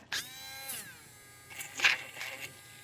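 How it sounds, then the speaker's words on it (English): A small power drill whirs in short bursts through cured UV resin pendants, its pitch dropping as it bites into the resin, followed by brief buzzing spurts. "Let me just drill through these real quick."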